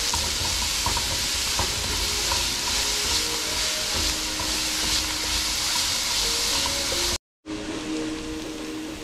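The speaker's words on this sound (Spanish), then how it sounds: "Ahí le integramos todo eso y seguimos sofriendo." Lentils with cumin and black pepper sauté in a pan, giving a continuous close frying hiss with the soft scrape of stirring, briefly cut off before resuming.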